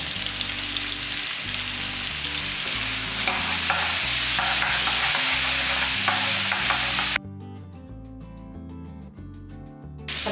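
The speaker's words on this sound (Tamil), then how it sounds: "அது இந்த சைடு காய் நல்லா வதங்கிட்டு இருக்கு" Vegetables for buttermilk curry sauté in a pan, giving a bright, steady sizzle with scraping stirs for about seven seconds before the frying noise drops away sharply, leaving a quieter background.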